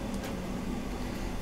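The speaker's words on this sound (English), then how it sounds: "My tumble dryer is on." A steady low mechanical hum and drone, like a tumble dryer running nearby, continuous and unchanging with no voices.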